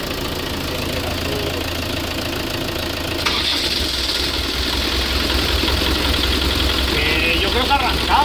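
Small engine cranking and catching, then running with a rough, knocking idle and a slight rev partway through, close and loud while people talk over it.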